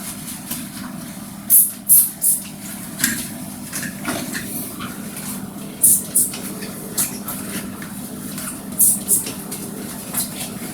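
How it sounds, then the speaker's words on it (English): A hand-pumped spray bottle squirts cleaner onto the outside of a bathroom toilet in short paired bursts, hissing sprays repeating every few seconds over a low steady background hum. "So I'll just proceed to wash the outside of the toilet first with the spray white."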